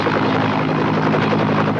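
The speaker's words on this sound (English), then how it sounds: "Our Coast Guard Rescue Helicopter will go at once." A Coast Guard rescue helicopter from a 1970s UK public information film roars loud and steady, with continuous rotor chop and engine drone and no voices heard.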